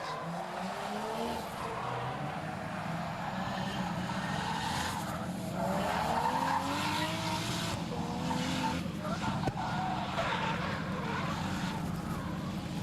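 A powerful red Nissan 180SX drift car at a drift series event spins its wheels down the opening straight. A sustained engine roar rises and falls beneath tire noise, heard from a distance with an announcer talking over it.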